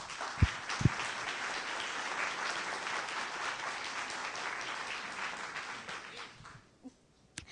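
A long burst of applause, steady and fairly full for about six seconds, then tapering off into a few isolated claps and handling knocks at the start and end.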